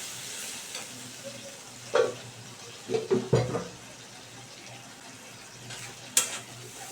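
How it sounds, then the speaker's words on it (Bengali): Fish curry spice paste with a little water is stirred in a pan under a soft steady sizzle, with a few scraping clatters of a spoon against the pan in short bursts. "মশলাটাকে অ্যাড করে দিয়ে আমি একটু মিশিয়ে দিচ্ছি।"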